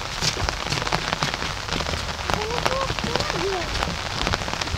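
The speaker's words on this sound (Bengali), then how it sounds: "যেহেতু বৃষ্টি হচ্ছে" Rain falling in a seaside forest by a bridge, steady patter and drips on leaves and surfaces nearby, with a few faint bird chirps rising over the continuous wash.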